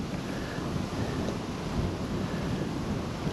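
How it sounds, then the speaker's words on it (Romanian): Strong wind blowing by a lake outlet, a loud continuous roar and buffeting against the microphone that lasts the whole clip, with no voices heard. "Ai, ce bate vântul incredibil."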